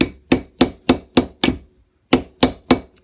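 Eight sharp blows from a file handle used as a hammer while reassembling a Howard 200 rotavator gearbox, six in a steady rhythm, a brief pause, then three more, close and loud.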